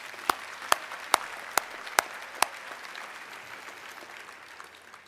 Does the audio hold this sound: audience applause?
yes